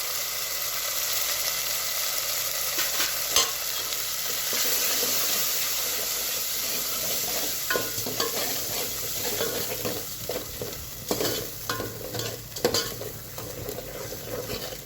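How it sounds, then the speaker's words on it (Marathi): Masala with black and red chili powder sautés in a pan for a chana dal amti, a steady close sizzle with repeated scraping, clattering stirs growing busier toward the end, no voices. "मसाला चांगला परतून घ्यायचा आहे।"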